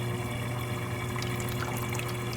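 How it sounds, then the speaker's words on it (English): Water filling the ice maker tray of a Whirlpool side-by-side refrigerator makes a steady, faint trickle and hiss with a low, constant hum beneath it. It runs unbroken from start to finish, with no talk. "you should be able to hear and see water filling into the ice tray"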